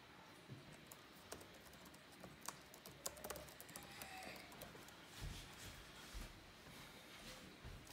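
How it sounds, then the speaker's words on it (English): Rapid, uneven keystrokes tapped on a Chromebook keyboard, close and fairly quiet, with irregular bursts of clicks over a low room hiss and no talking. "I'm just going to type it in."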